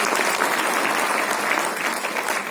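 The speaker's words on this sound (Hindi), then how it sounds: "आप ताली बजा के स्वागत कर सकते हैं।" A dense, steady wave of audience applause fills a hall at a government MSME programme, many hands clapping together loudly and evenly to welcome a speaker.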